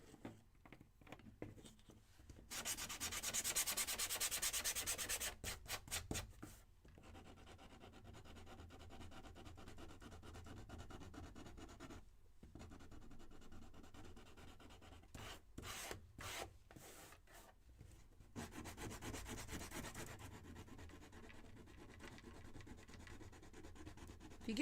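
Hand sanding of a blue-painted piece from a floral craft kit, with bursts of close, raspy rubbing strokes separated by quiet pauses.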